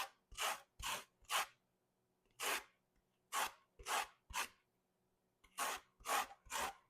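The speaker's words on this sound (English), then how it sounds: "Okay, so we'll take the zest there, just on the inside." An orange is zested with about ten short, dry rasping strokes in uneven bursts, close and clear with quiet pauses between, and no talking.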